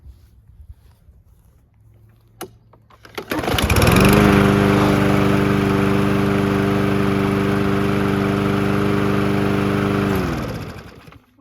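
A Troy-Bilt TB110 lawn mower with a Briggs 550EX 140cc engine starts after a few quiet seconds and runs loud and steady close by, then shuts off and winds down near the end.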